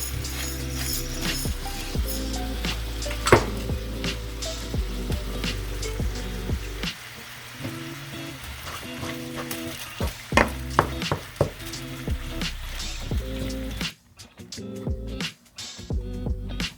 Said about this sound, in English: we're gonna continue to stir it up and move it around the pan until you don't see any more pink